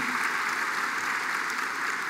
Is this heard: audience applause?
yes